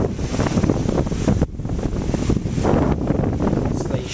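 A Fridgemaster pedestal fan running on its second speed setting, a steady rushing airflow hiss that stays loud and close throughout with a brief dip partway.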